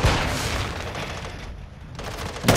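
Gunfire in Call of Duty: Modern Warfare II, loud bursts of shots at the start, a quieter stretch in the middle, and a sharp blast at the end.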